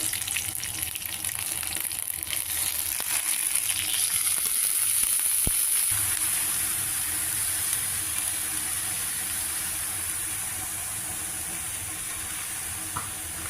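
Boiled vegetable pieces sizzle and crackle in hot tempering oil, a steady frying hiss with occasional stirring sounds, gradually settling into a softer continuous sizzle.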